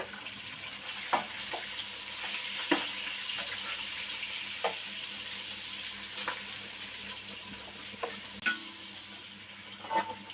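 Chicken pieces frying in a pan for Kuwaiti-style chicken masboos biryani, with a steady, close sizzle and occasional clinks and scrapes of stirring scattered throughout.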